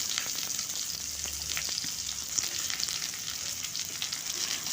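Potatoes frying lightly in hot mustard oil in a wok give a steady, close sizzle with scattered crackles and small stirring clicks throughout, with no talk.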